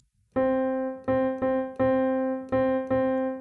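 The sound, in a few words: rhythm of quarter and eighth notes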